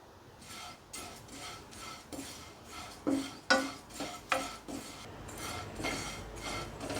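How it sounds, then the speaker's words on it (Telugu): Flattened rice (poha) dry-roasted and stirred in a pan without ghee, as a spoon repeatedly scrapes and clinks against the metal in an uneven rhythm, with light rustling between strokes and no talking. "అటుకులు కూడా వేయించుకుందాం"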